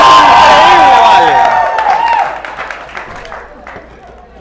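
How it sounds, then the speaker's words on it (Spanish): A studio audience whoops and cheers loudly, then the noise thins into scattered clapping that fades out over a few seconds. "¡Aplausos, muchachos!"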